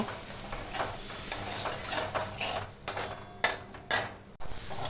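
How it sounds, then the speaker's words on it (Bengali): Spice paste with salt and turmeric sautéed in a pan, with a soft steady sizzle broken by several sharp scraping stirs of a spoon against the metal, close and alone with no voices. "মশলাটা একটু ভালো করে কষে নেব।"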